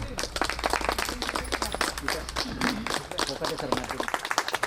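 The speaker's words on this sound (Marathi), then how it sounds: "जोरदार टाळ्या बागडे मॅडमसाठी." Applause from teachers and guests honouring a teacher at a staff get-together at Sharada Vidyaniketan school. The clapping is dense and close, with voices mixed in over it.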